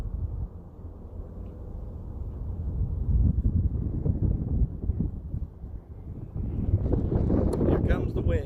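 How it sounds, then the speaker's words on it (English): Wind gusts across open water around a kayak on a cold Indiana winter day, a low, rumbling buffet against the microphone that swells and eases, with muffled voices at times. "Here comes the wind."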